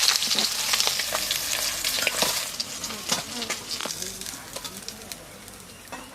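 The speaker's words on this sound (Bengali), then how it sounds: "এই মাছগুলো ভাজা হয়ে গেছে, এগুলো তুলে নিই।" Pomfret fish frying in hot oil with a continuous crackling sizzle, loudest at first and gradually easing, punctuated by scraping and clinks from a spatula, with faint voices around.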